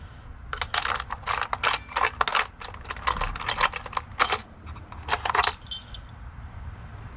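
Metal carriage bolts are rummaged through in a container, giving a close, dense run of clinking and jangling metallic clatter in bursts over several seconds before fading.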